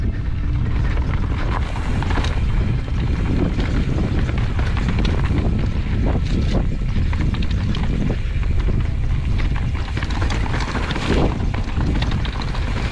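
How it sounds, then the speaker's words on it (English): Strong wind buffeting the microphone on a mountain bike trail ride at Kirkhill, a continuous loud roaring rush with gusty surges throughout and no clear pauses. "Oh, this wind is a killer."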